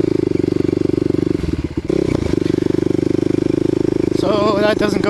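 A Kawasaki KLX250 motorcycle rides off-road through tall grass, its single-cylinder engine droning loud and steady close up, with rustling and clattering as the throttle dips and rises midway and near the end.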